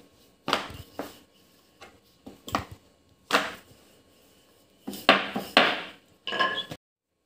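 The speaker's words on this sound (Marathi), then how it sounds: "हे मी पोळी लाटून घेतली आहे" Wheat dough for lachha paratha being rolled out, with irregular close knocks and rolling thuds of the pin on the board in short bursts, separated by quiet pauses.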